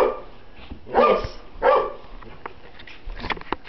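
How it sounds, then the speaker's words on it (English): A family dog growling at a boy at home lets out two loud, close barks about a second apart, followed by softer yips and scuffling, with a brief word spoken. "Our dog is growling at him."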